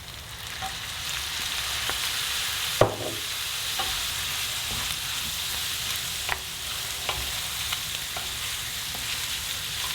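Soy sauce sizzles in a pan of frying pork mince with a steady, hissing crackle, broken by a few sharp stirring clicks and scrapes. No voices are present.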